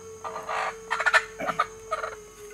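A chicken makes several short, loud clucking and gobbling bursts in quick irregular succession, close by and alone, with a faint steady hum underneath.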